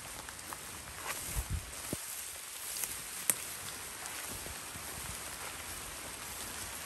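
Rain falls steadily outdoors near a river, a soft, continuous patter with a few scattered drops and brief rustling, heard at low level without talk.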